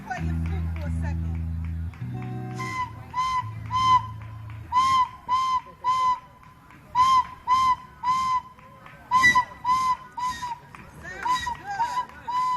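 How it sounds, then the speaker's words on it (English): A young girl plays a flute at a live community event, sounding a series of short, repeated high notes with brief pauses between them, after a few words of speech and some background crowd noise. "Layla, go ahead and play your flute for a second."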